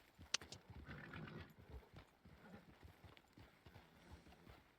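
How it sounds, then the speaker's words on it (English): Hooves of wild horses clip-clop along at a walking pace on a trail, close by, with faint rustling and a sharp click near the start. "A lot of wild horses out here."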